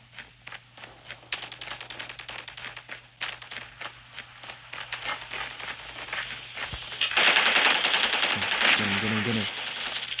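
Rapid machine gun fire in Call of Duty Mobile, a frontline free-for-all match, crackling in quick bursts through the clip and swelling into louder, denser shooting near the end, with game sounds and faint voices around it.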